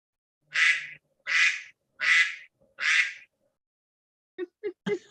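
A bird gives four loud, harsh, evenly spaced calls close by, then a few short fainter chirps, heard during an online meeting with no talking over it.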